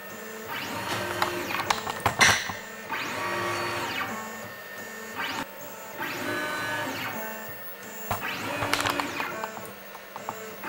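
An OpenPnP pick and place machine runs through repeated cycles of whirring motor sweeps that rise and fall, punctuated by sharp clicks and clacks, steady and close with no talking.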